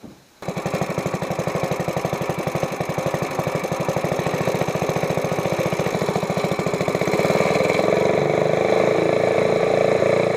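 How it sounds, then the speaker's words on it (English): A boat mud motor runs under load for the first time, a steady loud engine drone with a fast regular firing pulse that grows slightly heavier and rougher toward the end, close and continuous with no talk. "this is the first time we've had a load on the motor."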